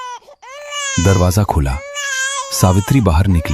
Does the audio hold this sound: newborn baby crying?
yes